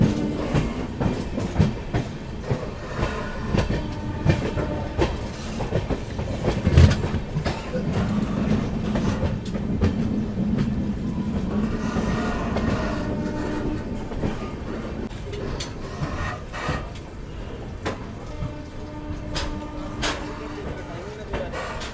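The Patna–New Delhi Amrit Bharat Express rolls along at speed, wheels clattering rhythmically over rail joints with a brief horn, heard from on board amid steady rumble and some background voices.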